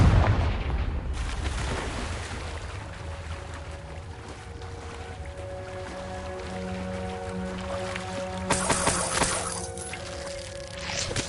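Confringo blasting curse cast in Hogwarts Legacy, an initial sharp crack and blast followed by a rumbling wash with tonal magical hums, then another burst of crackling impacts later on.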